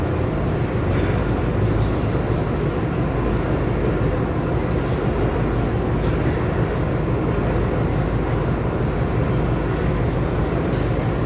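A train standing at a station, heard as a loud, steady low rumble and hum that continues throughout without a break.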